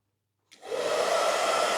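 An old hotel room hair dryer switches on with a click and settles into a steady, breathy blowing roar that continues alone.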